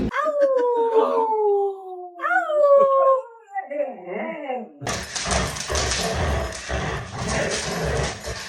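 An old dog gives several long, wavering howls that rise and fall in pitch, ending in short yips, followed by a burst of loud rustling and handling noise.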